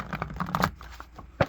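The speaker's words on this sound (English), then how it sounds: "Alright, one more shuffle." A deck of playing cards is shuffled close by in a short burst of quick riffling clicks and flutters, ending with a single sharp snap, with no talking.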